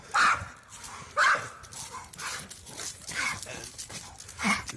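A dog barks in sharp, spaced bursts, roughly five barks over a few seconds, fairly close, with faint background noise between them.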